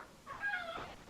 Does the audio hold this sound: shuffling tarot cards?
no